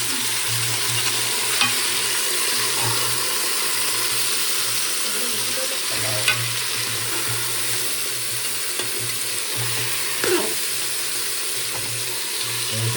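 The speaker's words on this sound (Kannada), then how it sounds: "ಇದು ತರಕಾರಿ ಆದಮೇಲೆ ಎಣ್ಣೆಲಿ ಒಂದು 2 ನಿಮಿಷ ಚೆನ್ನಾಗಿ ಫ್ರೈ ಮಾಡ್ಬೇಕು ಈ ತರಕಾರಿಗಳ್ನೆಲ್ಲ" Mixed vegetables fry in oil in a pan for a soya chunks veg pulao, a steady close sizzle with occasional stirring scrapes and soft clinks throughout.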